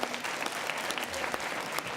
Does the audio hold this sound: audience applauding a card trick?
yes